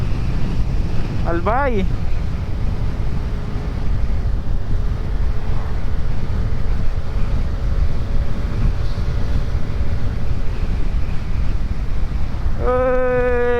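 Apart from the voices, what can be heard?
strong wind while riding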